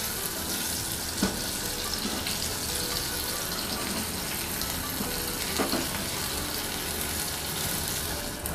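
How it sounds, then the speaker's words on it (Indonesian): Fermented black beans (tausi) fry in a little hot oil, giving a dense, steady close-up sizzle throughout with a few faint stirring scrapes and ticks. "pertama-tama panaskan sedikit minyak dan goreng tausi"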